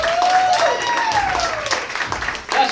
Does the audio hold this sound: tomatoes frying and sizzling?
no